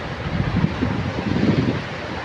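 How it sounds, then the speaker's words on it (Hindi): Fast flood water rushing past, a dense, steady churning roar heard close by with gusty wind noise, no voices. "पानी आ रहा है ना बहुत, ये पत्थर भी उड़ा देता है, कितना पानी तेज़ है।"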